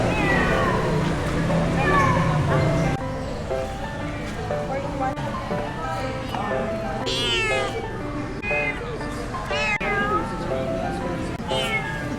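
A rescued cat meows repeatedly, loud and close, its rising and falling cries coming one after another over a steady background of other sound, with some talking mixed in.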